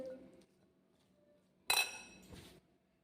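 A quiet kitchen hum, then a sharp burst of metallic clinks and scraping from a spoon stirring spices for lime-chilli pickle in a steel vessel, fading after about a second.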